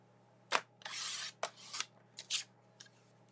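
Scissors snipping through a sheet of paper for a craft project, a few short close cuts and longer rasping slices in an otherwise quiet room.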